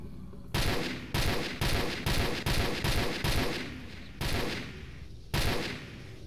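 Sniper rifle shots in the game S.T.A.L.K.E.R. Shadow of Chernobyl ring out in a fast, even series of about eight loud, close cracks, each followed by a short decaying echo.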